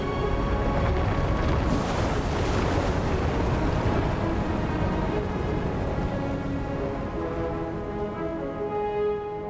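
Spillway opening in Star Wars The Old Republic, a loud steady rush of water with a sustained droning hum underneath, continuous throughout and easing slightly toward the end.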